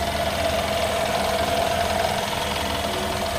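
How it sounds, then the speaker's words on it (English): The V8 engine of a Mercedes-Benz S-Class S 500 L idles steadily up close, a continuous low rumble with a faint whine, unbroken and with no voices. "Very, very big engine. Can you hear the sound?"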